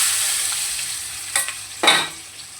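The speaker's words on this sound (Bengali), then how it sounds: "তেলের মধ্যে দিয়ে দেবো দুটো তেজপাতা, আর দিয়ে দেবো কেটে রাখা পেঁয়াজগুলো।" Onions and bay leaves frying in hot oil give a steady bright hiss that swells into two short, louder crackling bursts as the pieces hit the pan.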